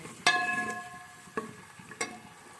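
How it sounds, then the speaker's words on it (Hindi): Onions browning in oil in a pan for Lahori chickpea masala, a steady low sizzle with three sharp clinks or stirs of a utensil against the pot spaced across the stretch, no talking. "उसमें प्याज इस तरीके से ब्राउन होने के लिए छोड़ दिया है।"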